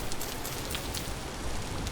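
Steady rain in the survival game Vintage Story falls as a dense, even hiss of drops hitting the ground, continuous and fairly soft, with no voices over it.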